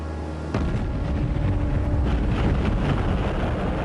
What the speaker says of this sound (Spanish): La explosión resultante levantaba el barco del agua y le partía el casco.